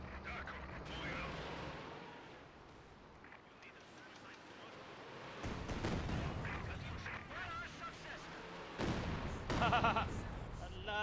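An artillery barrage in the video game Company of Heroes 2 on the Steppes map: heavy booming shell impacts and blasts come in bursts over a constant rumbling battle din, loud and close, with no talk.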